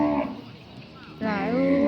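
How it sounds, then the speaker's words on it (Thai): Cattle moo at a livestock market, a nearby cow lowing twice in short succession, the second call rising and louder, with crowd murmur underneath. "ยืนงงที่ดงวัว ที่ตลาดนะคะ"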